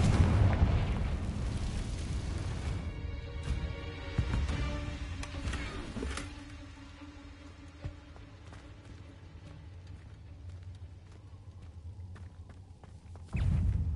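Confringo fire spell explosions in Hogwarts Legacy video game: a loud opening blast and rumble that fades into scattered crackles and pops, then a second heavy burst right at the end.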